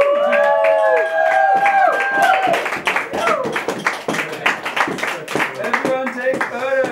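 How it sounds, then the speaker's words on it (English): Small crowd at a slam poetry performance claps, whoops and cheers in a lively burst, while excited voices and laughter ring out close by over the ragged clapping. "A round of applause!"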